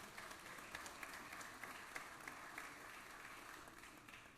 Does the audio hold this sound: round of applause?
yes